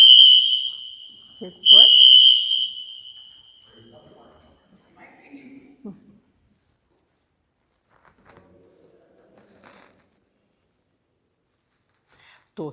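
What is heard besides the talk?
loud alarm going off in a museum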